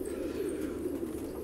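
Soft, low pigeon cooing murmurs steadily throughout, a continuous throaty drone close by with no talking.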